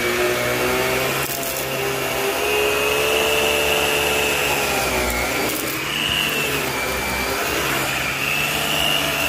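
A Filter Queen Majestic vacuum cleaner runs steadily and loud at close range, with a continuous broadband motor whine and airflow roar that stay constant throughout, with no talking.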